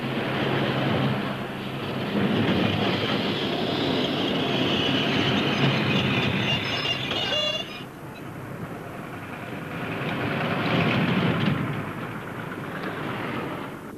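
A tram in Glasgow rumbles along rails with a continuous rolling roar and faint wheel squeal, easing off midway before building again.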